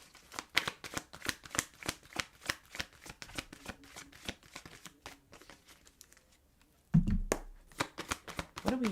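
A deck of cards being shuffled close up, rapid repeated riffling bursts with papery crinkles, quiet overall, briefly pausing before resuming louder near the end.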